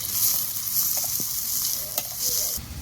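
Chopped onions sizzle steadily in hot oil, with a few soft scrapes of stirring near the pan.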